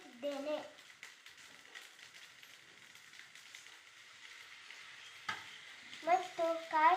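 Tamarind going into a hot pan and being stirred, a soft continuous sizzle with scraping stir strokes, and a voice talking briefly at the start and near the end.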